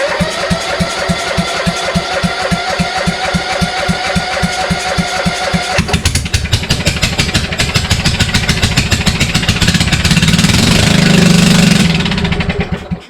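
Kohler Courage engine on a Toro LX460 lawn tractor runs with no muffler, a loud, harsh, rapid popping idle that shifts to a rougher, busier roar partway through before cutting off.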